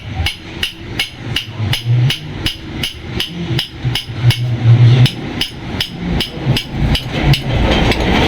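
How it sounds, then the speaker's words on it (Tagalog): Rapid, regular hammer blows strike close by, about two per second, ringing sharply over a low background murmur. "Martilyo ba?"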